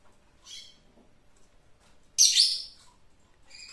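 Caged songbirds being trained for song give short bright chirps in a quiet room, a faint call near the half-second mark and a louder, sharper burst of song just after two seconds, then brief trills at the end.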